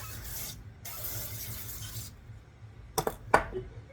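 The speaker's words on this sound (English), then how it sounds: "Just going to give them a spray." Two long hissing bursts of avocado oil cooking spray onto a pan, then a few sharp clinks and taps close by.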